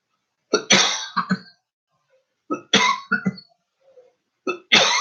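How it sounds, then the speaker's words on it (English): Three bursts of harsh coughing from one person, each a quick cluster of two or three coughs separated by short silences, close and fairly loud with no talking between them. "Sorry about that coughing."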